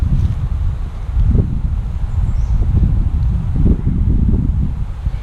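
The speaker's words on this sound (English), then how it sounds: "the wind keeps blowing it off" Gusty wind buffets an outdoor microphone with a low, rumbling roar that swells and eases continuously, no voices.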